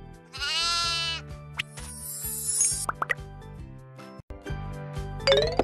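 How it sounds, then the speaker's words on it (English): A sheep bleats in a short, bright, wavering cry, followed by shorter bleats and plops, set against steady tonal background music. "Sheep."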